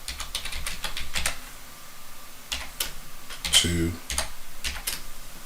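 Someone types on a computer keyboard while entering a command on network gear, giving quick bursts of close key clicks with brief pauses and one louder clack, alongside a short spoken word.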